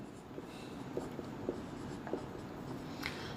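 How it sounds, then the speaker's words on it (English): Pen or pencil writing out a quadratic equation on paper, soft scratchy strokes and a few light taps, faint and close in a quiet room with no talking. "First of all, you write down the quadratic equation."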